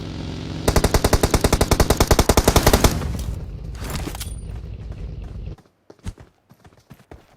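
Automatic gunfire in PUBG Mobile bursts out as a rapid, loud string of evenly spaced shots for about two seconds, followed by scattered reverberant noise, a few sharp isolated shots and clicks as it tails off.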